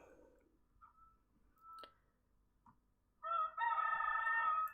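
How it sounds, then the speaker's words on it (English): Backyard chickens give a few soft clucks before a rooster bursts into a loud, close crow that fills the last second and a half. "You remembered I had chickens, just didn't expect to hear them."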